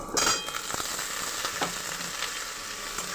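Potato pieces drop into onions frying in hot oil, setting off a loud burst of sizzling that settles into a continuous close crackle with faint stirring.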